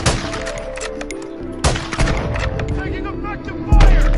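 Video game gunfire in Call of Duty Modern Warfare 2 on the Shoot House map, a quick series of sharp shots and thuds with a heavier boom near the end, and faint voices in the mix.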